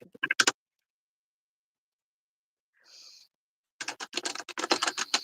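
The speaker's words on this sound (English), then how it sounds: "She is typing a mile a minute." Fast typing on a computer keyboard: two short runs of rapid, close key clicks separated by a long silence, with a faint brief sound in the gap.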